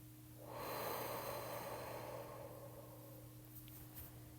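A long, slow exhale from a breathing exercise: a soft, steady rush of breath that swells and then fades over about three seconds, heard alone over a faint background hum.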